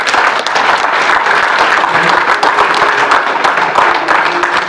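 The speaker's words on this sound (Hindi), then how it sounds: "इनके लिए जोरदार ताली बनती है" An audience gives a loud, sustained round of applause for a class of Kendriya Vidyalaya schoolchildren in a school setting, with steady dense clapping throughout and no talk.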